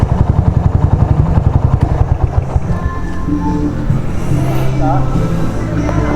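Motorcycle engine idling with a rapid thumping pulse up close, then dropping away as the bike is parked outside an old mansion, with wind noise and a voice talking afterward.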